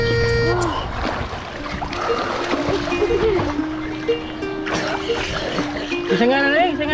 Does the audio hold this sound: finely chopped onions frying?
no